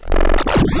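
A short, loud synth bass note with no effects, a wobbling, rippling tone and a quick downward sweep, dry and up front.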